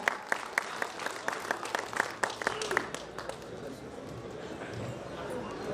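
Crowd applause at a Hindi poetry gathering after a devotional Saraswati invocation: rapid, crisp clapping for about three seconds, then settling into a softer, diffuse murmur of audience noise.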